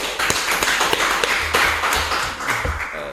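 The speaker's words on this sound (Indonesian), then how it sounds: "Tepuk tangan dulu untuk Pak Sopar." Audience members clap for Pak Sopar, a guest at an Indonesian gathering, with a burst of sharp, fairly close hand claps that keep going steadily and then fade toward the end.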